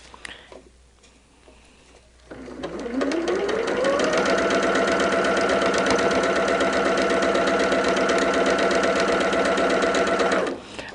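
After a quiet moment, a sewing machine whirs up to speed and stitches steadily in a fast, even rhythm, then stops abruptly.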